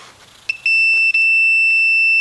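A multimeter gives a steady, high-pitched continuity beep as its probe touches an earth pin while a pump is wired up. The tone is loud and close, starts after a brief click and drops out for a moment before continuing.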